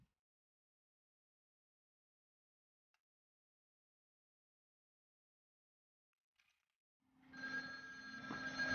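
A telephone starts ringing after a long stretch of near silence, a bright, continuous electronic ring that enters at moderate loudness and keeps going to the end.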